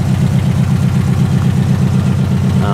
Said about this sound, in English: It's pretty quiet actually at idle.